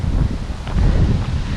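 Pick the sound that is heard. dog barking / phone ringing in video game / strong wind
strong wind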